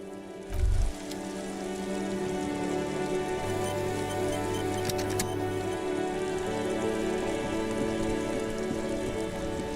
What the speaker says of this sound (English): Oh, this rain will not let up anytime soon.